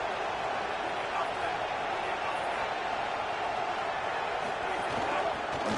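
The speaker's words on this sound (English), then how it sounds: "here comes the noise. This crowd is trying to inspire this defense to make a big red zone stop" A college football video game stadium crowd roars in a dense, continuous wash of cheering and noise, loud and unbroken throughout.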